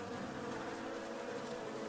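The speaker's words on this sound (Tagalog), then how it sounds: "nagpadala ang Diyos ng mga langaw" A dense swarm of flies buzzes steadily as a sound effect for the plague of flies sent on Egypt, a continuous even drone with no talk.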